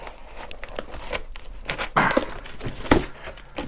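Styrofoam and packing tape on a boxed Pango Stratocaster electric guitar kit being cut open with a cutter, giving scattered close crinkles, scrapes and a few sharper tearing and thumping bursts.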